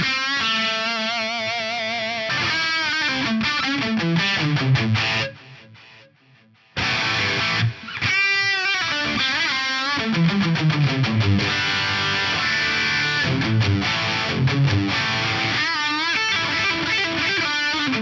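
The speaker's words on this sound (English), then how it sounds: "this row here is going to blend in this mix of reverb, delay, and pitch" Electric guitar notes ring out soaked in reverb and echoing delay, with shimmering pitch-shifted layers; the playing briefly drops out midway, then resumes.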